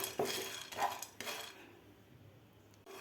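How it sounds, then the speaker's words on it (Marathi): Roasted chana dal (dalia) being lightly dry-roasted in a pan, heard as a few metallic scrapes and clinks of a spoon against the pan in the first second and a half, then a quieter stretch of soft stirring. "थोड्याशा किंचित भाजायच्या आहे डाळ्या."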